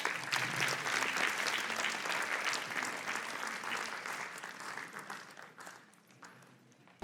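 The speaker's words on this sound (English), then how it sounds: "Clap for every guest." Audience at a preschool annual event clapping for guests, a steady wash of applause that gradually fades, ending with a sudden loud bump.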